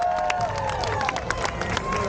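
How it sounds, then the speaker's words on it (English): A crowd at a BMX event at the EX Games at the CNE cheers and applauds loudly and steadily, with dense clapping and whoops throughout. "Give it up for Zach"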